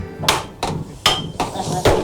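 A hammer pounds steel while a handmade wok is forged, giving five sharp, loud metallic strikes spaced roughly half a second apart, close by with no talk.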